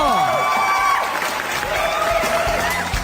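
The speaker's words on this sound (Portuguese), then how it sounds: "Palmas pra Kate e pra todo mundo que comentou." A studio crowd breaks into cheering and clapping with a few whoops, loud and sustained, while a voice talks over it and a tonal jingle sweeps through.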